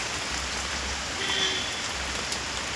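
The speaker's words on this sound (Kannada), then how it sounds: "ಈಗ ನೋಡಿ ಮರ ಇರೋದ್ರಿಂದ ಈ ಮರದ ಎಲೆ ಮೇಲೆ ಬೀಳೋ ನೀರೆಲ್ಲ ನೋಡಿ ಯಾವ ಥರ ಬರ್ತಾಯಿದೆ ಅಂತ" Rain falls steadily on tree leaves outdoors, a soft, even patter of drops with no voices.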